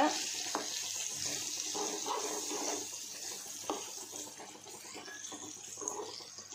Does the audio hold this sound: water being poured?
yes